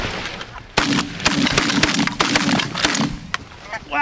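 Gunshots during a goose hunt ring out in a rapid volley of sharp, loud cracks, one after another, with brief pauses between, set against a steady outdoor background.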